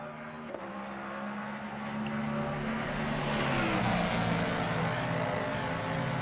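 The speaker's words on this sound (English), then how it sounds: "on a time lap that is, running in the Ford Mustang GT3 car" A Ford Mustang GT3 race car on a timed lap at Kyalami, its engine a steady loud roar that builds slightly as it passes close by, with no talk over it.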